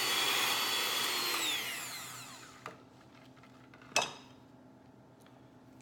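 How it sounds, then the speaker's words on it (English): A blender whirs loudly through a keto cheesecake batter of eggs and other ingredients, running steadily for about two seconds before winding down, then falling quiet apart from a couple of sharp knocks. "blend all this together"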